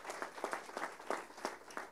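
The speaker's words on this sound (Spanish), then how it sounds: "dense un aplauso a ustedes mismos" Small church congregation clapping together in a loose, uneven rhythm, with distinct bursts of hand claps rising and falling at moderate loudness and no talking.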